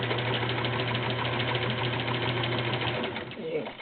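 A vintage Kenmore 1774 sewing machine stitches through five layers of thick Levi's denim, a loud, steady mechanical churning hum with rhythmic needle knocks, easing off in the final moment.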